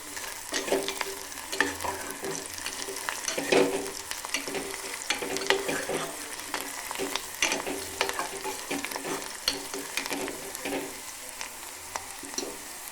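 Masala rice ingredients fry in a pan until browning, a steady close sizzle broken by irregular scraping and stirring clatter throughout, with no voices.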